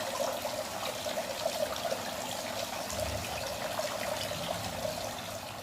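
Water trickles steadily down a waterfall decoration backdrop made for a Ganpati festival display, a soft, continuous, fairly faint splashing flow with no voices.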